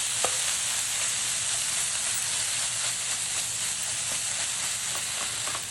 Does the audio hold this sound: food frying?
yes